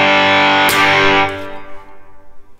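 A heavily distorted electric guitar, shaped through a Helix tone setup, rings out in a loud sustained chord with a sharp pick attack partway through, then decays into a fading, wavering tail.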